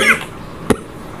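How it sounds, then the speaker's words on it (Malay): A single sharp cough from a maths teacher in the middle of a lesson, loud and close, stands out after a brief burst of speech and is followed by quiet room tone. "maaf saya batuk."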